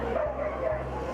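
Dogs bark and yip beside the border wall at Nogales, heard briefly through steady background noise with a voice nearby.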